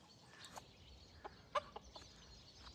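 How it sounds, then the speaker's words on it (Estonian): Roosters and hens on a home farm in winter, a few short clucks and one sharp squawk rising over quiet outdoor ambience, with soft scattered calls near and mid-distance; no crowing stands out. "Kuulge, kuked, ei lähe jälle puu otsa."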